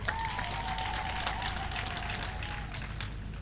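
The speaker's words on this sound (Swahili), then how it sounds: "Jipigeni makofi sana" An audience applauding themselves at a seminar, a steady, fairly distant wash of clapping that holds evenly throughout, with a faint tone running beneath it.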